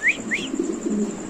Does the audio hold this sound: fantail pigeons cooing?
yes